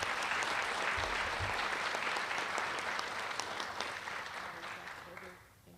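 Sustained applause from an audience at a high school student recognition ceremony, a dense wash of clapping hands that holds steady, then thins and fades toward the end.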